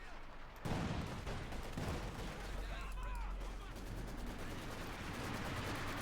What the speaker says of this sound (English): artillery firing down there trying to silence it